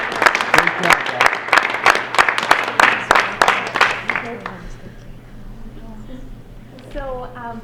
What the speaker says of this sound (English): Let's give our students a round of applause for speaking about the ideas.